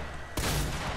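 Gunfire in the video game Fortnite, a sudden loud burst of rapid shots that starts abruptly and rattles on for more than half a second after a quieter stretch.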